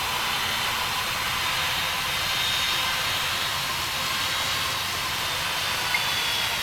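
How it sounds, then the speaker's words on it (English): An Embraer 175 jet takes off in a flight simulation, a steady broadband roar and hiss holding level from start to end, with no voices. "there goes our first departure of the day. It is an Embraer 175"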